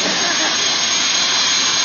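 Loud, steady roar of a government jet plane's engine at an airport, a broad hissing rush that holds unchanged through the whole moment with no pauses.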